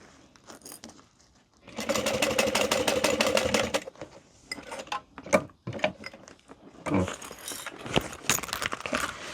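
A sewing machine runs a steady top stitch along a zipper for about two seconds, a dense even whir, then stops; afterward come handling clicks, fabric rustles and a short further burst of stitching.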